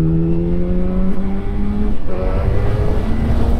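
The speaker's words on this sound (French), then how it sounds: "c'est un bon moteur, un poil énervé en 4 cylindres" A 2006 Yamaha FZ1 four-cylinder roadster engine running under load, loud and close with a smooth rising tone, a brief dip before climbing again in a strong continuous pull.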